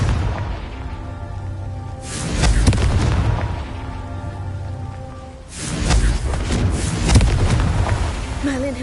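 Confringo explosive spell blasts in Hogwarts Legacy, two heavy booming bursts a few seconds apart, loud and rumbling over a steady background.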